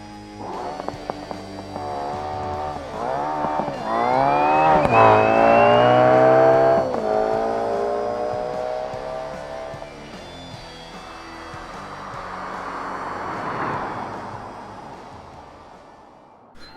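A BeamNG drag car, The Bleed, screams through a 7.573-second run at 199 mph, its engine note rising in loud harmonic sweeps through the gears before fading into a rushing, distant roar.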